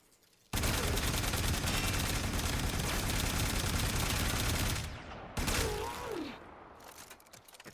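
Boltor Prime rifle firing in the video game Warframe: a dense, loud, continuous burst of rapid gunfire for several seconds, a brief drop-off, then another short burst trailing into softer game effects.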